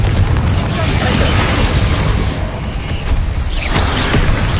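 Loud, rumbling blasts from the fiery Confringo explosive spell in Hogwarts Legacy, a dense burst of booms and crackle close by, with a second surge of explosions near the end.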